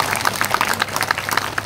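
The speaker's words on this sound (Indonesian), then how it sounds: "Tepuk tangan Bapak Ibu." Audience applauding in a hall during a Hindu dharma talk, a brief burst of scattered, fairly faint hand claps.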